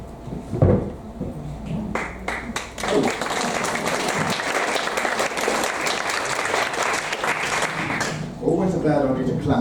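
A meeting audience claps before a talk begins. After a few scattered opening claps, steady, full applause builds and holds for several seconds, with a voice starting to speak as it ends.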